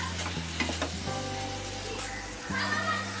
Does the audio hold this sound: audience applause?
no